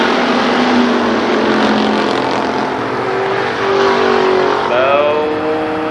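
Stock cars roar together around Columbus Motor Speedway during a heat race, a loud, continuous engine drone with pitch climbing toward the end as the pack accelerates.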